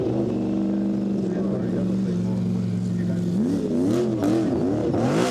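A 1954 Curtis IndyCar engine at a hillclimb runs loud and steady, then revs up and down in repeated rising and falling sweeps, with people talking nearby over the noise.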